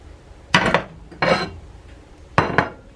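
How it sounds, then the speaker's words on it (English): A dish set down in a kitchen sink for washing, giving three short clattering knocks of crockery spaced about a second apart, fairly close and clear. "I'll put this in the sink so I can wash it."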